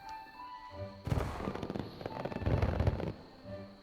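Fireworks from the Disney Dreamlight Valley video game, a burst of crackling pops and thuds lasting a couple of seconds over quiet background music.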